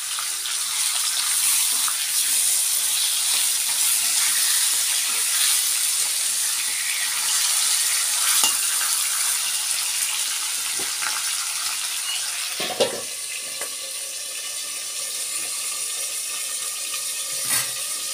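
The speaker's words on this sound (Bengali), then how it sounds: "চলো মাথাগুলো একটু ভেজে নিতে হবে।" Fish heads frying in oil in a very hot pan for a Bengali muri ghonto, a steady bright hiss of sizzling that runs throughout, with a couple of sharp clatters near the end.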